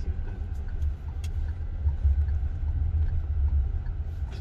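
A Proton X50 driven on the road, heard from inside the cabin as a steady low rumble of engine and road noise with no talking.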